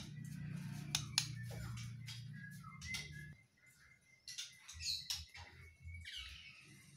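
Bright songbird chirps and whistled phrases come in quick, irregular bursts, close and clear, over a low hum that drops away partway through.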